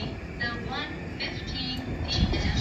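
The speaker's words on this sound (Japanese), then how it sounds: "先ほどの DD200 がグリーン車を引っ張ってきました" A DD200 diesel locomotive pulling Green Car passenger cars rumbles past nearby, a steady heavy rolling roar with clattering wheels and a rising and falling engine drone.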